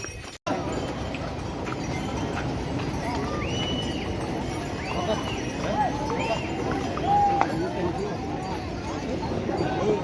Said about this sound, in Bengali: এখন আমার ঘোড়া, পুগলুর ঘোড়া আর ভাইয়ের ঘোড়াই রয়েছে, 3টে একসাথে